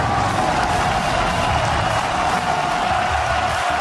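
Loud esports arena crowd at a 2016 League of Legends All-Star match in Spain, a dense steady roar of cheering and applause filling the whole stretch without any speech.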